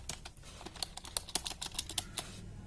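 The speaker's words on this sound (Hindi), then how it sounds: "ये हम टाइपिंग स्टार्ट करेंगे" A computer keyboard clicks through a typing test with a brisk, irregular run of sharp keystrokes, close and fairly quiet, with no talking.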